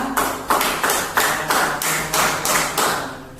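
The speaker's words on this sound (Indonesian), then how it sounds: "Kita kasih aplaus dong kelompok Karuna." A classroom gives applause to a student group. The sound is a close, regular burst of about ten rhythmic claps, evenly paced and slowly fading, with no talking over it.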